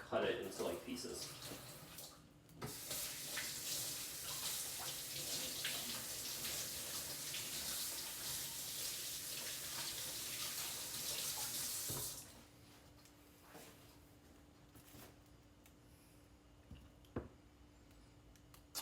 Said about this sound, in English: For the celery, first you wash it